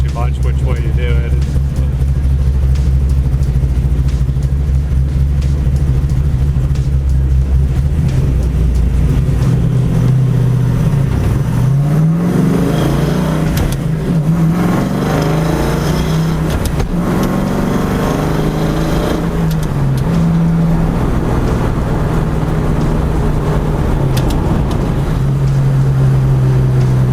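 A car driven with an S1 sequential shifter, steady loud engine drone rising and falling in pitch as it pulls through the gears, continuous throughout with a voice talking over it.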